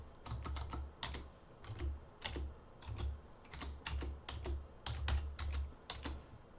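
Rapid typing on a computer keyboard, close and steady, keys clattering in quick bursts over a low hum, with no one talking.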